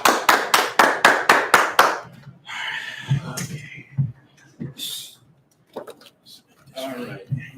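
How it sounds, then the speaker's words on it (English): Congregation clapping at a Sabbath service, eight sharp, evenly spaced claps in a quick rhythm, followed by scattered quieter sounds and a voice speaking. "clap it up for the Most High."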